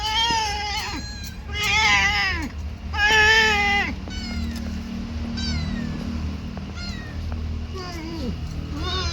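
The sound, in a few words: cats meowing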